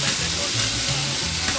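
Tomato cooking in oil in a pan for Mexican food gives a steady, close sizzle with soft stirring, no voices.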